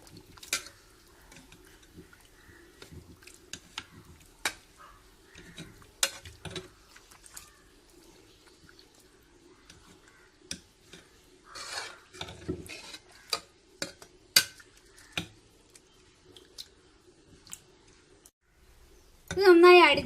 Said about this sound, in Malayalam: ഇനി നമുക്കിതൊന്ന് ജസ്റ്റ് ഒന്ന് സ്മാഷ് ചെയ്ത് കൊടുക്കാം